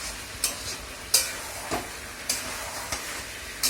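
Chicken being sautéed with tomato and green chilli in a hot pan, a steady close sizzle broken by about six short scraping stirs at roughly half-second to one-second intervals, with no talking.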